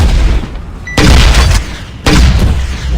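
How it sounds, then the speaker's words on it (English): Ion cannon launch in the video game Vainglory: two loud, heavy explosive blasts about a second apart, each a sharp onset followed by a booming rumble, over a dense, noisy game soundscape. "Ion cannon launch, and boom."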